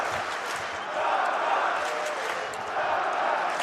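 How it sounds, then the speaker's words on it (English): Arena crowd chanting in a steady, rolling wave of massed voices at a UFC event in T-Mobile Arena, moderately distant and filling the space, with scattered claps and a commentator talking over it. "There's a chant in the crowd"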